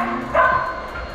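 A single sharp dog bark sounds close and clear against a low steady background, heard during play of the Super Mario Bros secret world level Senda Superestrella 2.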